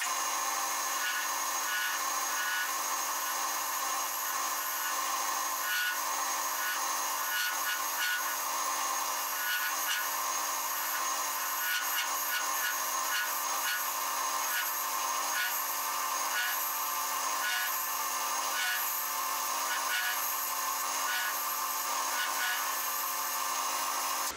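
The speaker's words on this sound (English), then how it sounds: "Now we'll shape the top." A wood lathe spins while a tool shapes a wooden spinning top, giving a continuous high scraping hiss with irregular rubbing and cutting bursts that hold steady and close for the whole stretch.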